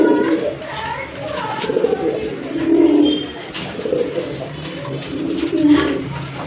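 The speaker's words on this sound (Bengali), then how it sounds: "এটা হচ্ছে চিলা কবুতর, খয়েরি চিলা কবুতর।" Brown chila pigeons coo close by in repeated soft, throaty rolling phrases that rise and fall over a few seconds, with no one talking.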